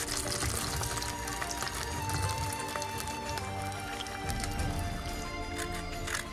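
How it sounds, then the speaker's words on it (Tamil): Batter-coated oyster mushroom pieces deep fry in hot oil, giving off a dense, continuous crackle and hiss that stays steady and close throughout. "இப்போ பாருங்கள் முறுமுறுண்டு எப்படி சத்தம் கேட்குதுண்டு."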